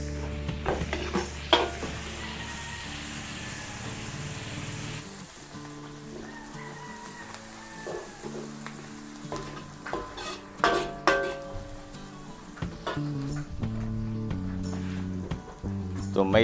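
Onions going into a pan with already-cooked garlic for a Filipino dish, sizzling and frying with frequent stirring scrapes and utensil clatter against the pan, close and moderately loud, with a voice talking over it.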